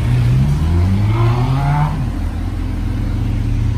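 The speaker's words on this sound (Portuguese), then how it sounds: "as hornetes da quebrada vindo" Honda Hornet motorcycles pass close by, their engines loud and revving hard as the roar rises and then eases off, with no talking.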